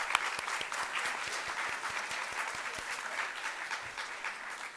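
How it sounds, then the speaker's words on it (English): Audience applause at an animal welfare event in DeKalb County, a steady patter of many hands clapping at moderate distance, holding for several seconds without breaking off. "One more round of applause."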